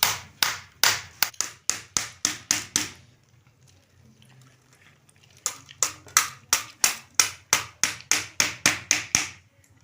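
Sharp, evenly spaced hammer blows drive nails into the frame of a woven kinjar basket, two quick runs of about a dozen crisp strikes each, separated by a few seconds of near quiet, close by.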